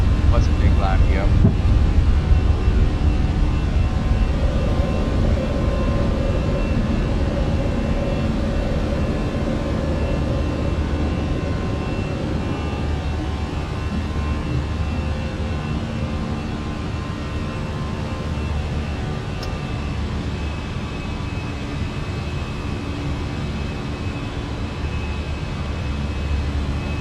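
An airliner in Microsoft Flight Simulator 2020 rolls for takeoff with a sustained, loud engine roar and rumbling low drone, swelling early then settling into a steady hum with wind noise; a voice speaks occasionally over it.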